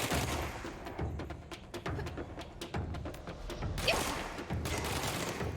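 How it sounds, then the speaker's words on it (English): Rapid gunfire in the action game Control, a dense steady stream of sharp shots over a loud rumbling mix of game sound with no pauses. "I'll shoot all around him"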